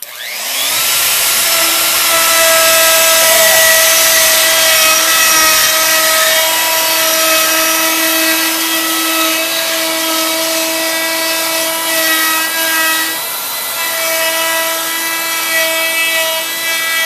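A power tool, likely a router, cuts fluting detail into wood for built-in cabinetry with a loud, steady, high-pitched motor whine, close by for the full length and briefly dipping near the end as the cut changes, with no talking.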